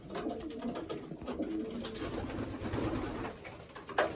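Pigeons in a breeding loft give faint, low cooing calls that murmur on and off under a quiet room background, ending with a brief sharp knock.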